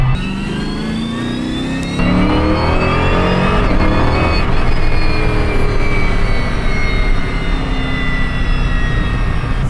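An Ultima GTR sports car engine revs hard nearby, its pitch climbing and falling through rising whines as it accelerates, with no voices.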